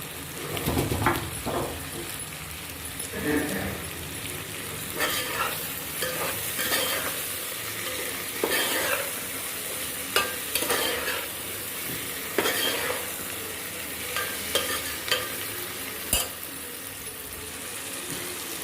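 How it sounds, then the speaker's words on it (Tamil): Ground tomatoes sautéing in a pan for Tirunelveli-style chicken biryani, a low steady sizzle broken by repeated scraping stirs and a few sharp knocks of the spoon. "சின்ன தக்காளி ஒரு மூணு தக்காளி நான் அரைக்கி வச்சுருந்தேங்க அதையும் சேர்த்துருக்கேன் அது வதங்கட்டும்"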